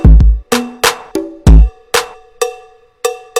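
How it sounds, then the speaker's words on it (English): Eight or so sharp metallic cowbell strikes ring out alone, loud and close, in an uneven rhythm, each hit decaying quickly. "This cowbell sounds like this,"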